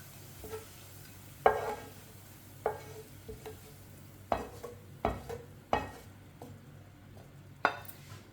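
Fried onions lifted out of hot oil in a pan, soft sizzling under scattered sharp metallic scrapes and clinks of a utensil against the pan, close and fairly quiet.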